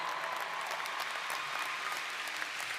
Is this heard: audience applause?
yes